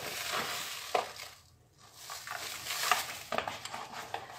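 Steady sizzling as cream with sugar is stirred in a pot on a hot stove, a spoon scraping close up, a brief dip in the middle, no voices.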